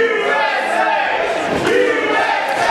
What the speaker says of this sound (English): Crowd picking up the chant of USA